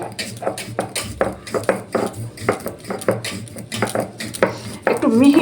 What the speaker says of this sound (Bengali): এবার আমি জল দিয়ে এটা বেটে নেব